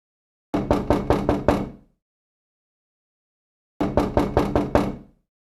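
Knocking on a door, two bursts of five quick, even raps each separated by a pause of about two seconds, loud and close with silence between.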